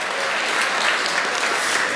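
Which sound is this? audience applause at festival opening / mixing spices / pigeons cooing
audience applause at festival opening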